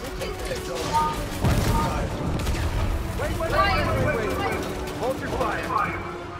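Gunfire and booming blasts in a Fortnite match as enemies shoot at a tank, a dense rumbling barrage with bursts of shots running throughout, mixed with game effects and excited players talking over it.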